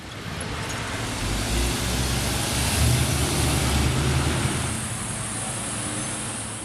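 Motor traffic rolls past on a road used by cyclists, a loud steady roar of car engines and tyres that swells and fades as vehicles pass close by.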